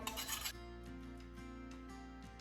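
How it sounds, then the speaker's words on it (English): A tool scrapes built-up debris off a corn head part. A loud rasping scrape comes at the start, then a series of quieter rubbing strokes over a steady hum, with no talk. "Scrape some of that off of there."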